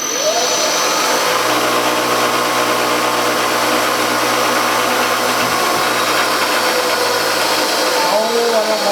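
A CNC machine drilling a Kerzel cylinder head runs with a loud, steady whine and motor hum, with a lower tone kicking in after the first second, holding constant to the end.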